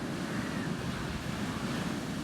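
Ocean waves roll in on a beach in the morning, a close, steady wash of surf with wind noise and no break or pause throughout.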